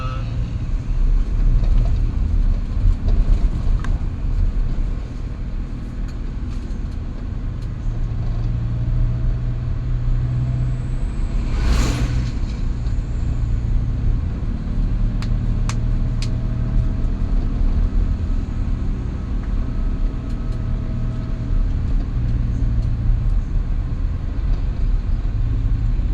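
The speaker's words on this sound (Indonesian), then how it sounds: "Depan nih banyak truk-truk ini teman-teman." Heavy road traffic with trucks passing, a loud continuous engine and tire rumble heard from close by, with a brief horn-like burst partway through.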